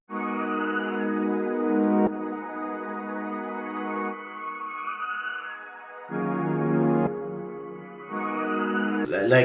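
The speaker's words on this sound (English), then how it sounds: "and then with the reverb and the flanger it sounds like this." Pitched melodic sample processed with Valhalla reverb and a subtle Fruity Flanger in FL Studio for a Drake-style beat; sustained harmonic tones shift in steady sections, with a brief bright burst at the very end and no speech.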